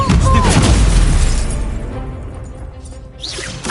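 Confringo blasting spell explosions in the video game Hogwarts Legacy: loud booming crashes with a whooshing burst, dense and close at the start, then fading before another blast near the end.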